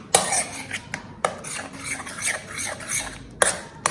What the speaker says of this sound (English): I'm trying with the spoon. You have to mix it well.